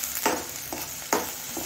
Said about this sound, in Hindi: यहाँ पर प्याज अच्छे से फ्राई हो चुके हैं, गोल्डन कलर दे चुके हैं।